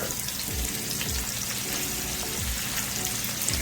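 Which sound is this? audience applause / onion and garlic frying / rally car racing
onion and garlic frying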